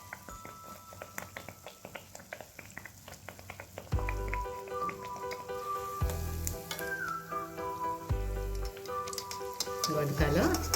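Adhirasam sweet frying in oil over a low-medium flame, a steady soft sizzle with faint bubbling, partly masked by louder background music and tones.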